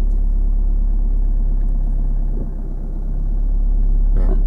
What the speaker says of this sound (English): That's the engine now changing